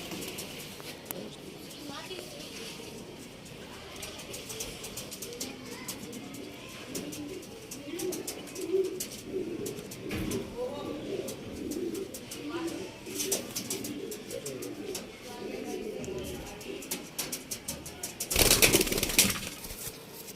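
Pigeons cooing in low, soft murmurs throughout, among them a Cheeni breed male pigeon offered for sale, with someone talking over the birds and a brief burst of wing flapping near the end.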